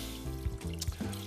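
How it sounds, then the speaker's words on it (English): Chicken broth poured into a pot for instant grits, a short gurgling trickle of liquid, close and fairly soft, lasting just over a second with no talk. "So I'm adding in 3 cups of chicken broth"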